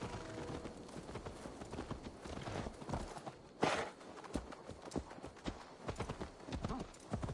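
Horse hooves clip-clop steadily at a walking pace in Assassin's Creed Valhalla, close and continuous over busy game ambience, with a sharp louder knock midway.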